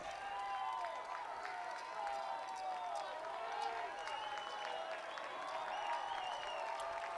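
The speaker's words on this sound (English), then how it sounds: "Now the Sky both dugouts getting rowdy, as is the crowd." A high school baseball crowd and both dugouts cheer and clap in a steady, lively roar at a distance, with talking mixed in throughout.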